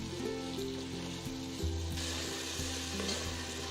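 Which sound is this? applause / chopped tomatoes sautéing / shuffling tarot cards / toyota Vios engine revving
chopped tomatoes sautéing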